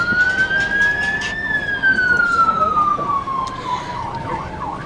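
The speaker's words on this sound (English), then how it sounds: "Oh, that's fire trucks." Fire truck sirens wailing past high-rise flats, a loud rising and falling tone sweeping up then gliding down over traffic rumble, fairly close and steady throughout.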